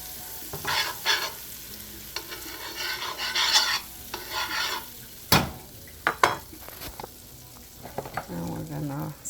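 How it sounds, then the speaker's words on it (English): Butter melts and sizzles in a pan for a chicken pot pie while a utensil stirs it, giving bursts of scraping and soft hiss with sharp clinks and taps against the pan. "melt your butter"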